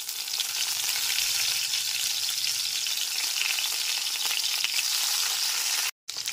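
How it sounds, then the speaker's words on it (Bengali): Salted, turmeric-coated eggplant pieces frying in hot mustard oil, a loud, dense, continuous hiss and crackle close up that cuts out briefly near the end. "এরপর এতে লবণ আর হলুদ মাখানো বেগুনগুলোকে দিয়ে দিলাম।"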